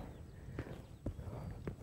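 Hooves of a Kaimanawa horse clip-clop at a steady walk, three distinct moderately close strikes over a low rumbling background, with no voices.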